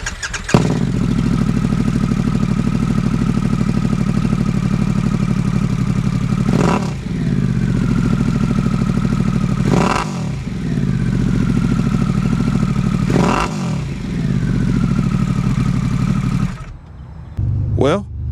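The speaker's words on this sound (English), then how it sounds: "let's hear this exhaust" A Harley-Davidson Pan America motorcycle with an aftermarket Vance & Hines exhaust idles with a deep, steady rumble, punctuated by several sharp throttle blips that rise and fall before the engine cuts off near the end.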